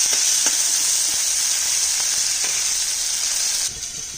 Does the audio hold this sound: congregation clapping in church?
no